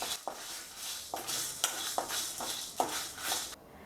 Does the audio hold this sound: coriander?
yes